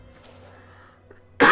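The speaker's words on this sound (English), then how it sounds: "Sometimes you just gotta cough." A single sharp, loud cough bursts out at the very end after a quiet stretch with a low steady hum.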